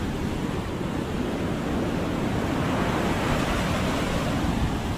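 Ocean surf rushes in a steady, broad roar with wind buffeting the microphone, no voices.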